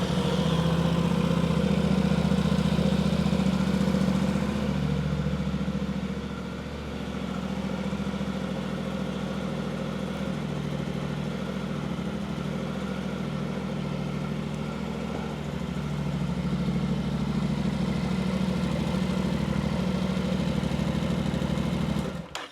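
A motorcycle engine idles steadily after an oil and filter change, a continuous low rumble that holds at an even level with no voices throughout.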